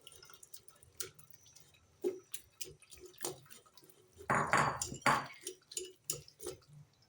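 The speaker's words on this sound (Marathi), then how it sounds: "अजून एक वेळेस गाळून घेणार आहे." Bael fruit juice is strained a second time through a strainer in a kitchen, giving sparse drips and light clinks of utensils against a vessel, with a louder splashing burst midway and quiet taps around it.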